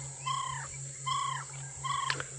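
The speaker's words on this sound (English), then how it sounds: "So that's the barred owlet that we can hear." Played-back call of a barred owlet, a very small owl, heard during a sunset safari drive: three clear descending whistled phrases spaced evenly apart, moderately loud over a steady background hum.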